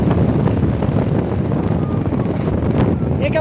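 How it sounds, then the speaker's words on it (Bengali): Strong, steady storm wind roars against the microphone at night on Digha beach during heavy rain, with a deep, rumbling wash of rough sea underneath, continuous and loud throughout. "মুসলধারে বৃষ্টি তমকা ঝড়ো বাতাস হচ্ছে দীঘার সমুদ্র সৈকতে"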